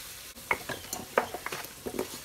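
Gushtaba meatballs are dropped into a thick gravy and fried, with sharp utensil clinks and scrapes against the pot over a soft sizzle, several distinct knocks in irregular rhythm.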